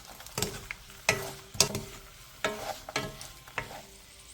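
Mushrooms and dried shrimp are stir-fried in a pan, with repeated scraping and tossing strokes of a utensil over a soft sizzle, close and irregular, with no voices.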